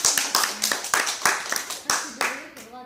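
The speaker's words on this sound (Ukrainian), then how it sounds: "аплодисменти спочатку" Sparse applause from a small audience at a project presentation: roughly a dozen distinct, fairly close claps in a loose rhythm over three seconds, with a brief voice at the end.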